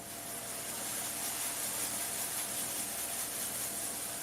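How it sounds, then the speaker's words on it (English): Rice toasting in a hot pan on the stove, a steady, even sizzle and hiss that holds without a break, fairly faint and close. "You hear that? It's a sizzle."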